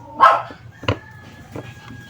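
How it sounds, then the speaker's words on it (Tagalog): Several dogs bark close by in short, separate bursts, a sharp yap followed by a couple of quieter barks, over a faint background hum. "Ingay naman ng mga aso na to, tahol ng tahol."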